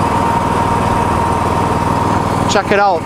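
A Miller Trailblazer 325 EFI welder generator idles steadily with a 250 watt floodlight plugged into its power, a continuous close engine drone that holds its pace while someone speaks briefly near the end.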